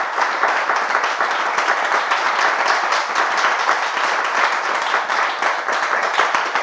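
A studio audience on a French-language television talk-show set applauds a pastor's advice, with dense, steady clapping filling the whole stretch and no voices over it.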